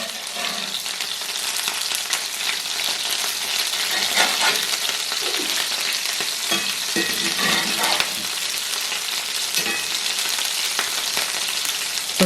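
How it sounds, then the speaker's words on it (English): Potato tikki patties frying in hot oil for aloo tikki chaat, a loud, dense, continuous crackling sizzle up close with small bursts of spatter and no voices. "let this fry for one side at least 3 minutes"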